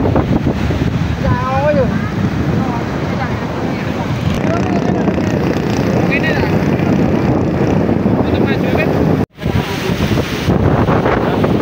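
Surf and wind roar steadily at Depok beach in Yogyakarta, a broad wash of breaking waves with gusty microphone buffeting, while people talk and call out nearby throughout.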